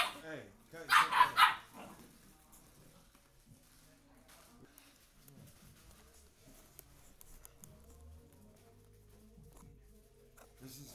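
Dogs fighting and barking, a short loud burst of barks and yips early on, then quieter scuffling and whines while people talk.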